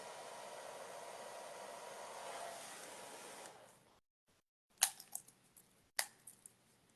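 A hair blower heats isomalt sugar while shaping domes: a steady broadband whoosh runs for about four seconds and then cuts off, followed by a few sharp clicks and taps.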